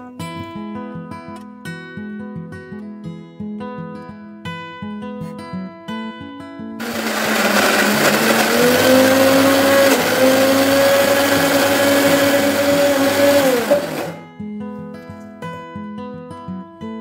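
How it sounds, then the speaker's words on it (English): Mixie jar grinding coriander leaves, mint leaves and chicken into a fine paste, a loud whirring blender roar that starts abruptly, runs steadily for about seven seconds with a rising pitch, then cuts off, with background music before and after. "Transfer the mixture to a mixie jar and grind it to a fine paste"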